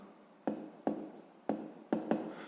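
A pen writes out a fifth-grade math exercise, giving faint close scratching strokes with about five soft taps as the tip meets the paper, sounding alone and quiet.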